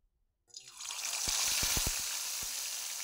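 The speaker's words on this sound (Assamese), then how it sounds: "প্ৰথমে মাছ কেইপিচ ভালদৰে ফ্ৰাই কৰি ল'ম" Mirika fish frying in mustard oil in a kadai, bursting into a loud, steady close-up sizzle after a brief silence, with dense crackling and a few sharper pops.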